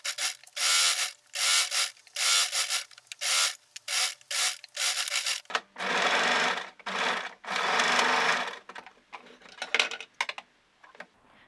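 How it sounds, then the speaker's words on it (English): A sewing machine stitches dress cuffs and side seams for a maxi dress in close, loud bursts, with short pauses between runs and longer steady stitching passes near the end. "you're going to sew them here on the side"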